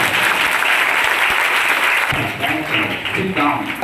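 A church congregation in Bijapur, Chhattisgarh clapping loudly and steadily at the close of a prayer, a thick sustained wash of applause with faint voices mixed underneath.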